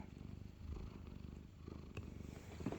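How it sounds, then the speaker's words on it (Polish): A domestic cat purrs close and steady, a low rhythmic rumble pulsing with each breath, quiet and alone. "I to godzinami tak możemy mruczeć."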